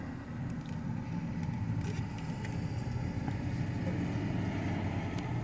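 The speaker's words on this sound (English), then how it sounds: "There goes another truck going to work." A truck heading to work rolls past a parking lot, heard as a steady low engine and tire rumble at moderate distance that holds for several seconds without talk.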